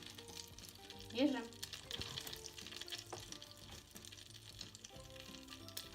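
Syrniki, small Russian cottage-cheese pancakes dusted with flour, sizzle steadily as they are laid one by one into a hot frying pan; the frying continues at a low, even level with a brief louder clatter near the start and a short spoken word.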